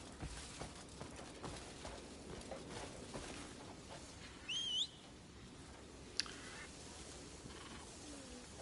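Horse hooves clip-clop softly and steadily in the video game Crimson Desert, a faint rhythmic patter under ambient game sounds with a brief bird-like chirp partway through.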